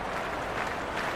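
Crowd applause in the cricket video game Cricket 26 at a PSL final between Hyderabad Kingsmen and Peshawar Zalmi, a continuous wash of stadium clapping and cheering, dense and steady with no distinct individual claps.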